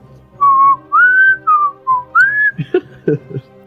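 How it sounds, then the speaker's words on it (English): A person whistles a short, wavering tune of several notes, close and clear, followed by a few brief low vocal sounds. "Just start whistling away."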